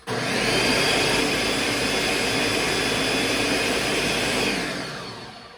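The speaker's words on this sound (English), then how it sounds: "this is essentially making oat flour by grinding up the oats" Blender grinding oats into oat flour for banana bread, a loud, steady roaring whir held for several seconds before winding down.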